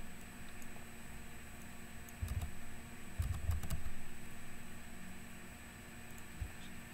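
Typing on a computer keyboard, a few soft clustered key clicks close by over a low steady hum, with short bursts of taps around the middle.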